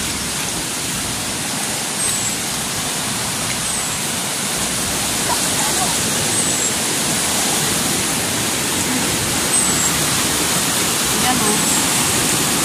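Rushing floodwater in the Piñan river, a steady, loud broadband roar of fast-moving water that holds constant throughout, with a brief voice speaking over it.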